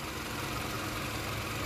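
A 2008 Toyota Camry engine idles in a steady, even rumble with no rhythm changes, heard alone at low to moderate level.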